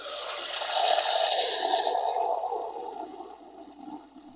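Water sputters and rushes from a refrigerator water dispenser right after a new filter is installed, with air in the line; a steady hissing, gurgling flow close by that eases and softens toward the end.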